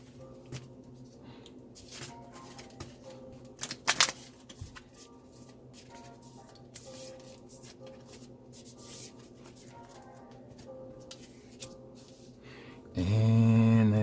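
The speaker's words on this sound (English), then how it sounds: "Shuffle my deck." A deck of game cards is shuffled during a World Breakers card game, a brisk, loud riffling burst near the end after a long stretch of quiet table sounds and a short rustle.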